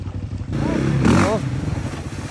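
An off-road motorcycle revs hard on difficult terrain during a 24-hour, 500 km off-road marathon in Lithuania, its engine note rising and falling in quick surges, close by, with voices mixed in.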